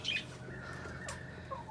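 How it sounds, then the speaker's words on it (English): Pet budgies give a few sharp squawks and chirps near the start and again near the end, with a brief flutter of wings between, against a quiet room hum. "These are our budgies."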